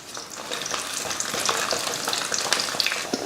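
About ten garlic cloves and ten chillies fry in sesame oil in a kadai, making a bright, crackling sizzle with stirring clatter that grows slightly louder and stays close.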